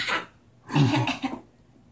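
A cough at home, where a parent is saying goodbye to a young daughter: a short, sharp burst, then a longer, rougher throat-clearing cough after a brief pause, both close and fairly loud with no talk.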